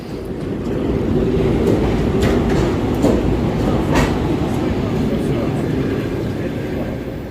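A passenger train with sleeper compartments bound for Yaremche rumbles steadily with a constant low roar and a few faint clicks and knocks, while people talk faintly in the background.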